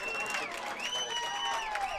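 Faint crowd applause and murmuring at a women's college soccer match after a goal, distant and thin, with scattered whistles or shouts over a steady low background.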